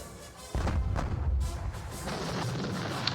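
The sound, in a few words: artillery fire in Napoleonic war video game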